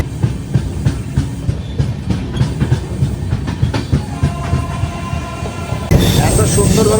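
The Samaleswari Express, a Jagdalpur-to-Howrah passenger train, runs along the tracks with loud, close, rhythmic clickety-clack and thin wheel squeal, growing rougher and denser near the end.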